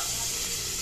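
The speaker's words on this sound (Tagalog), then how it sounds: "Para hindi po kami matalabsikan ng mantika. Antayin na lang po namin maluto." Milkfish pieces frying in hot oil in a covered pan, a steady, dense sizzle and crackle that fills the whole moment at close range with no voices.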